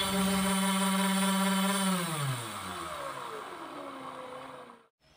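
A mini brushless grinder motor spins fast at 15 volts, a loud close high-pitched whine that holds steady, then winds down with falling pitch and cuts off abruptly near the end.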